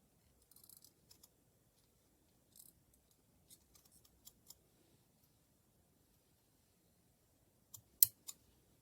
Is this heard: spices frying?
no